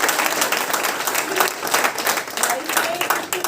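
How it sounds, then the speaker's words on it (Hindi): An audience at a youth nutrition and diet workshop breaks into sustained, fairly loud applause, many hands clapping densely together for a few seconds. "तालियां बजाओ"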